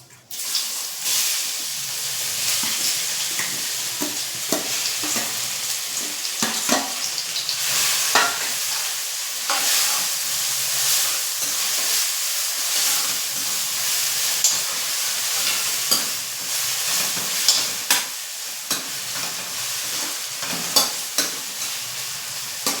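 Grated raw mango sizzles steadily in a pan over low heat for chutney, with frequent scraping and clattering stirs of a spoon, close and continuous.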